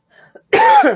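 A single harsh cough bursts out after a moment of near silence, loud and close, following a couple of faint throat sounds.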